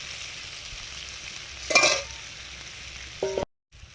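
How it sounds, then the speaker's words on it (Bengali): Boiled raw bananas sizzle in hot oil with a low, steady crackle, swelling into a louder burst of frying and stirring midway, then a short clatter before the sound cuts off. "সেদ্ধ করা কলাগুলো ভাজার জন্য দিয়ে দিলাম।"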